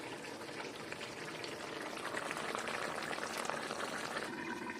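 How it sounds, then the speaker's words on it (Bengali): Rice boils in a pot on a kitchen stove, giving off a steady, fairly quiet bubbling and gurgling that continues throughout with no voices. "এদিকে ভাত হচ্ছে"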